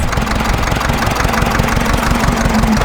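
A tractor engine runs loud and close with a steady, knocking diesel rhythm, no voices over it.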